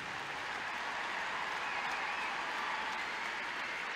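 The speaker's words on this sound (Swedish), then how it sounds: "Mina damer och herrar, en varm, härlig, omfamnande applåd." A crowd gives warm, sustained applause at a Hall of Fame ceremony, an even, dense patter of clapping at moderate distance that holds steady for four seconds.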